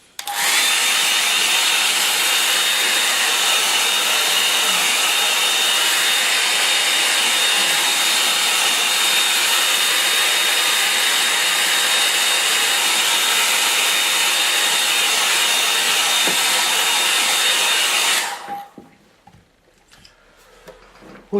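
A hair dryer blows steadily and loudly for about eighteen seconds, a constant whooshing hum that cuts off abruptly, leaving near silence.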